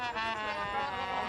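A solo trumpet from a small 1st Infantry Division marching band rings out at the Junction City Christmas parade, with a steady, rich held line over faint outdoor street noise.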